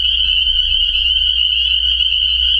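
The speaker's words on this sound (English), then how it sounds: "just trying to show you how loud these frogs are" Loud, continuous frog chorus with a steady high-pitched trilling drone, close and dense, with a low rumble underneath and no talking.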